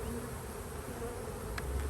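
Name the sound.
honey bees buzzing from a swarm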